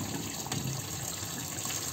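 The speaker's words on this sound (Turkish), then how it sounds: "Şimdi suyu dökeceğim arkadaşlar." Water poured out of a pot into a kitchen sink, a steady close gush running on for the whole two seconds with no pauses.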